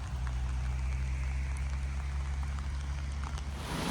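Rain falls outdoors on an old border-post wasteland, a dense steady patter and hiss under a constant low rumble of wind or distant traffic, continuous and fairly close throughout.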